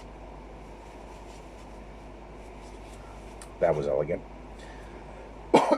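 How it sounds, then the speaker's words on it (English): A person blows their nose after eating hot peppers, one loud, close, wet honking burst after a stretch of quiet room tone, then a second short blast at the very end; there is brief talk. "Now I'm going to need to blow my nose."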